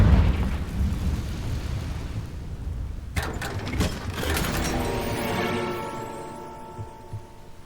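A Confringo blasting spell explodes in the Hogwarts Legacy video game: a sharp burst cracks in after a rumbling stretch, then a ringing, sparkling tail with metallic ratcheting textures slowly fades.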